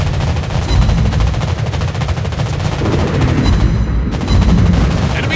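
Rapid anti-aircraft gunfire from a warship in the naval battle game World of Warships, a loud continuous rattling barrage of overlapping shots with heavy booming low end, sustained throughout.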